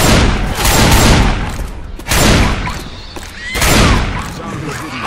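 Shotgun blasts in Left 4 Dead 2, three heavy, loud bursts of fire spaced about two seconds apart, each with a booming attack and a short trailing roar, under shouted voices of game characters.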